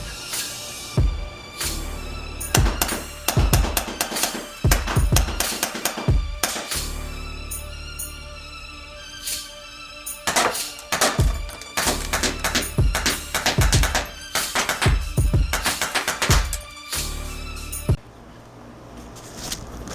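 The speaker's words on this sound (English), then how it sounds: "let's get to shooting it and seeing how it performs" A Colt CQBP .45 CO2 airsoft pistol being fired, a long string of sharp, close cracks in irregular clusters with brief pauses between shots.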